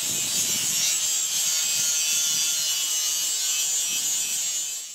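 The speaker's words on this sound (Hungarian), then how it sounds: "végig kellett menni az éleken egy köszörű koronggal" An angle grinder disc smooths the rough edges of plasma-cut steel from an old fence, giving a loud, steady, bright grinding hiss that runs unbroken and close with no voices.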